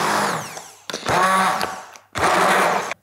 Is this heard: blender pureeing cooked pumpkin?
yes